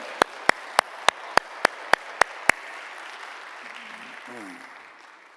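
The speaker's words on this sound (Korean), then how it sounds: "그 박수로 감사를 표할까요?" A church congregation applauds after a sung hymn: nine sharp, evenly spaced single claps ring out first, then give way to a softer, diffuse patter of scattered hands that fades out.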